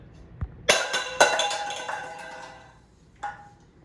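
A coated stainless steel camping mug knocked against something, giving a couple of sharp metallic clinks with a ringing decay, followed by a softer tap a moment later.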